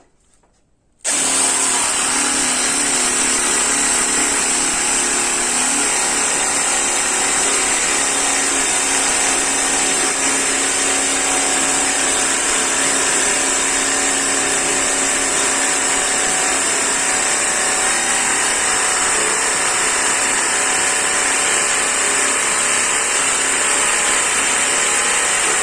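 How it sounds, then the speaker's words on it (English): A Black and Decker Matrix jigsaw attachment starts after a brief silence and runs continuously with a loud, high-pitched buzzing whine and steady motor noise. "Here's a little jigsaw."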